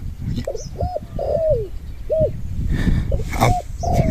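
A spotted dove in training coos nearby, a series of short, clear, repeated coo notes in a loose rhythm over a steady outdoor background hiss.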